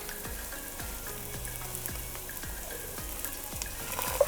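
Tomato paste sautéing with onion and garlic in a cast iron pan, a steady low sizzle with a few soft scraping stirs, close and alone without talk.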